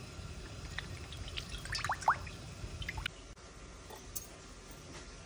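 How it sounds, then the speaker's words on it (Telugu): Cooking oil poured into a pan for frying garelu makes soft, close liquid trickles and wet drips over low background rumble, with no talking. "ఇప్పుడు అందులో నేను నూనె వేస్తున్నాను"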